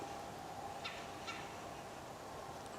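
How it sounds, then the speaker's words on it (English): Birds call out in Green Swamp, a couple of short, faint calls rising over a steady hiss of outdoor background noise. "So the bird activity seems to increase."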